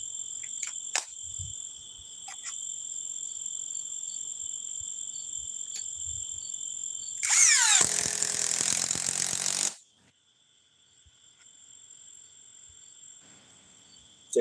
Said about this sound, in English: Say this is their compact impact wrench, the latest generation.